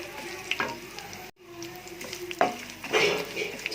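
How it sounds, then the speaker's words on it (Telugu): Cluster beans frying with curry leaves and coconut in a pan, a close sizzle with a sharp burst partway through and brisk stirring scrapes toward the end, no talking. "ఇవి ఫ్రై అయినాయి ఇప్పుడు ఇందులో కరివేపాకం కూడా వేసుకొస్తున్నాం ఇప్పుడు వీటిని ఒక రెండు మూడు నిమిషాల పాటు బాగా ఫ్రై చేసుకోవాలి"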